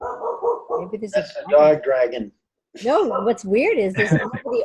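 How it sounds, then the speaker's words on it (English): A dog barks in short, sharp bursts close by, mixed in with a person talking over it through most of the stretch. "She's all of a sudden just went over and started barking over in that one corner"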